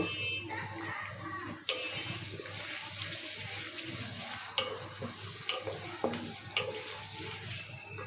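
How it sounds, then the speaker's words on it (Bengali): A small amount of onion fries in a pan for a spicy bitter gourd dish, giving a continuous close sizzle with occasional sharp stirring clicks against the pan. "পেঁয়াজটা একটু ভেজে নেই"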